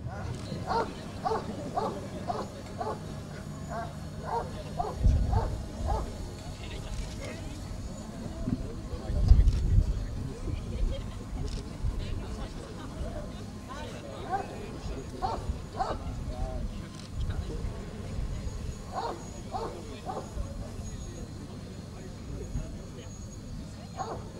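A gendarmerie police dog barks and yips in short bursts during an escort demonstration at a road safety event. Someone talks through most of the stretch, with vehicle and crowd noise around.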